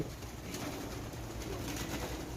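Many pigeons crowded into a small room in Riyadh at midnight coo in a dense, continuous, close murmur that fills the space without a break.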